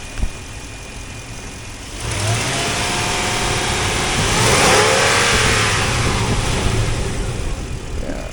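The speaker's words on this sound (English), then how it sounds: "Listen to one of the greatest motors ever made." A 2001 Lexus LX470 with a 1UZ-FE V8 engine idles steadily, then revs up with a swelling rise in engine noise before easing back toward a smooth idle.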